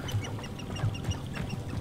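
Small pheasant-like birds in Hogwarts Legacy give repeated short clucking, quacking calls over a low ambient hum, several birds close by in a loose, uneven rhythm.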